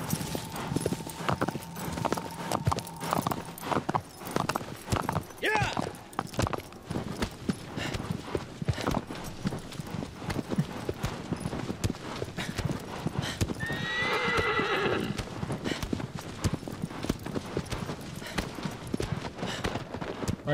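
Horse in the Shadow of the Colossus video game, with steady galloping hoofbeats running throughout and a loud whinny rising near the middle over busy game ambience.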